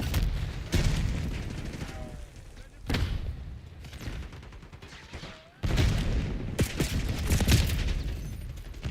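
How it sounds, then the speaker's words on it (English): Grenade blast in Call of Duty Black Ops 6 multiplayer, heavy booms mixed with surrounding gunfire, loud sections broken by brief quieter gaps, with a voice talking over the action. "Grenade incoming."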